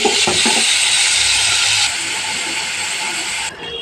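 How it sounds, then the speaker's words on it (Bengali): Hilsa fish fat fries in hot oil in a pan with a loud, steady, close sizzle and crackle that continues without a break, easing slightly near the end, with no talk. "তেল গরম হয়ে গেছে, মাছের তেলটা দিয়ে দেব।"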